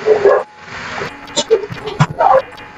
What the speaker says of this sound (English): the dogs are starting to act up